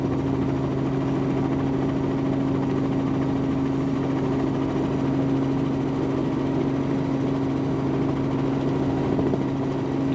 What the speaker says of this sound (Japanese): ヘリの爆音とヘッドホンセットのため自分の声がよく